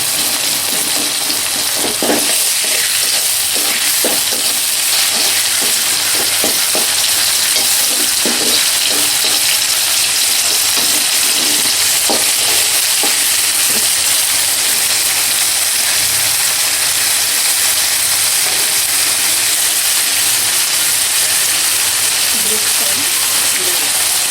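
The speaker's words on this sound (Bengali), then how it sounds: "আদা রসুন বাটাটা দিয়ে দিব দিয়ে ভাজব" Ginger garlic paste fries loudly in hot oil for vegetable fried rice, giving a continuous dense sizzle with occasional stirring scrapes close up.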